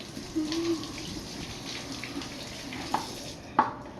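Tap water runs steadily into a sink to rinse fruit, a large watermelon and apples, for a fruit salad; a continuous, moderately loud broadband stream with a couple of brief clunks near the end and no talking.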